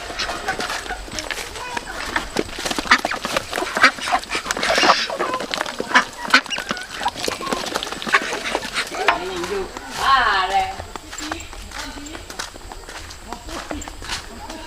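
Egg-laying ducks quack and chatter in a rural village yard, a steady flock close by with clattering footsteps and people talking over them.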